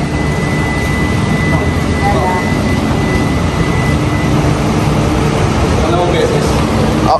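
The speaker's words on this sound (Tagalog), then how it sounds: "Baka bukas pa makina." A Hyundai Creta GLS engine runs at idle as a steady, loud mechanical drone throughout. People talk nearby over it.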